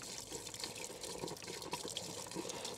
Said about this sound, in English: We like to pour some of the antifreeze underneath of the plug into the pipe